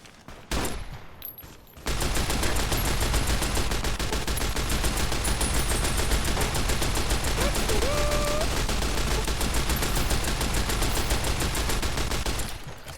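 Rapid automatic gunfire from a gun in Fallout New Vegas rattles on continuously for about ten seconds, loud and dense, after a short quieter opening, with a faint voice beneath.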